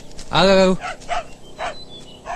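A dog barks in a Telugu film scene: one loud, drawn-out bark followed by several shorter, quieter yelps at irregular intervals, fairly close.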